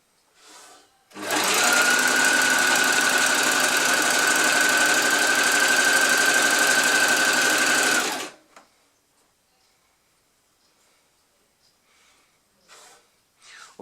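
A sewing machine stitches over pins in one continuous burst of about seven seconds, loud and close with a steady whirring buzz, then stops, leaving near silence with a few faint handling sounds.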